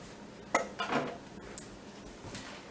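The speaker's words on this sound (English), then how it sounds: "Okay, I'm going to pop these in the canner." Glass pint canning jars filled with pinto beans set down into a metal pressure canner, making a few faint clinks and knocks spread over a couple of seconds in a quiet kitchen.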